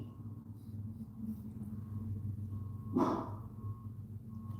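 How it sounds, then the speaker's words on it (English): One short, sharp dog bark cuts through a low, steady hum, with quiet background noise before and after. "Chelsea, no barking."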